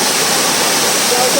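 The Alinkal waterfall at Kadappara, Palakkad pours down forcefully as a loud, dense, unbroken roar of falling water.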